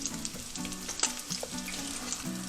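Fish fillets, a batch of twelve, sizzle and crackle steadily in hot oil for escabeche, with occasional stirring clinks and pops over the continuous frying hiss.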